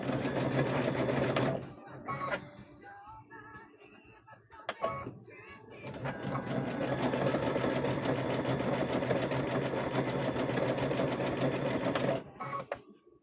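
A sewing machine stitches a trick-or-treat bag, running steadily in a loud, close mechanical whir, pausing briefly for a back stitch, then resuming in a long continuous run before stopping.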